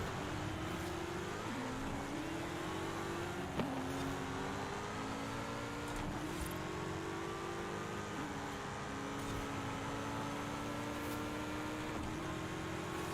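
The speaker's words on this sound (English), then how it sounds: "Man, that Porsche sounds good." A Porsche racing car engine in Forza Horizon 5 drones steadily, its pitch climbing through repeated gear shifts, with brief revs and clunks along the way.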